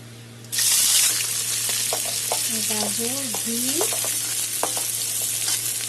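Carrots, beans and chillies drop into a hot pan and burst into a loud, steady sizzle, while a spatula clinks and scrapes against the metal.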